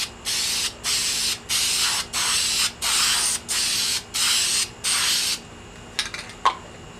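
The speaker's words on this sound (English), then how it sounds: "We're going to spray both of them at the same time" Semi-gloss lacquer sprayed from an aerosol can onto a wooden dovetail stool, heard as eight evenly spaced, loud hissing bursts, each about half a second long, followed by a few faint clicks and taps.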